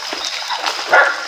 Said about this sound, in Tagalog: Tumatawag na yung aso.